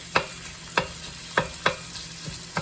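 Ground beef being broken up as it fries in a pan, with five evenly spaced spatula scrapes over a steady low sizzle, close and without talk.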